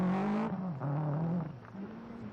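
A 1992 Toyota Celica GT4 rally car engine runs loud and close, holding a steady droning note that dips and recovers as the car drives on.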